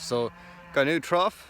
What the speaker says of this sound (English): you can hear the other cows in the background